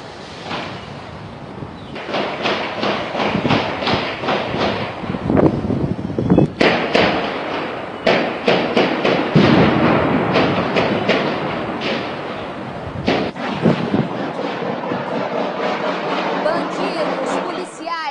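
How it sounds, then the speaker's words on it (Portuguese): A dense, continuous crackle of rapid rifle and pistol shots and firework bangs during an armed confrontation in Rio de Janeiro, loud and overlapping, with bursts rising and falling throughout. "Descarregaram fuzis, pistolas, fogos de artifício, tudo isso no confronto."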